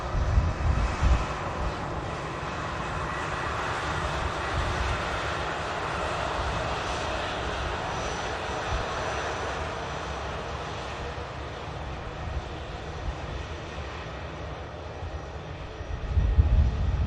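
An Atlas Air Boeing 747 runs its engines at Manchester Airport, a steady, moderately distant rumbling roar with broad low-end weight that swells slightly at the end.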